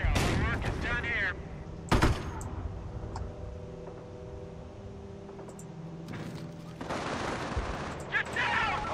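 Gunfire in the World War II strategy game Company of Heroes: sharp bursts of shots open and close the stretch, with scattered distant reports and a humming battlefield backdrop between them, and soldiers' voices calling out.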